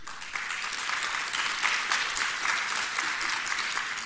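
An audience at a tax-law seminar applauds in a dense, continuous roar of clapping that holds steady at fairly close range, with no talking over it.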